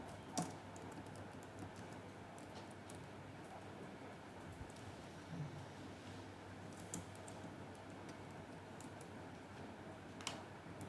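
Steady typing on a computer keyboard while HTML code is written, quick soft key clicks running continuously at low level with a few sharper taps.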